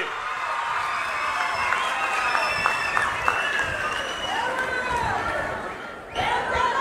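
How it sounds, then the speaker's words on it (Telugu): A crowd at a state government launch of free bus travel for women in Andhra Pradesh claps and cheers steadily, with voices and shouts mixed through the noise, holding at an even level before a brief dip near the end. "గట్టిగా చప్పట్లు కొట్టి హర్షాన్ని వ్యక్తం చేయండి"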